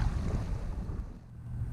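Wind buffets the microphone out on the water during a flathead catfish fishing trip, a steady low rumble throughout the short moment.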